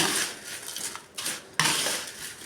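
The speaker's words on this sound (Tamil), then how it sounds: "நல்லா கிளறி விட்டுக்கலாம்" A spoon stirs salt, asafoetida and spices into a flour mixture in a metal bowl, close clinking and scraping against the sides with a brief pause between strokes.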